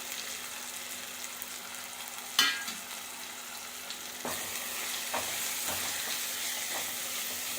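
Tomatoes and onions sauté in a pan for a Kerala-style fish curry, giving a steady close sizzle with a few sharp stirring scrapes and clicks and no voices.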